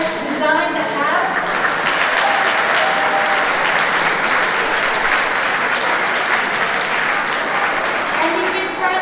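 Conference audience applauding, dense sustained clapping from a large crowd that fills the whole stretch evenly and loudly.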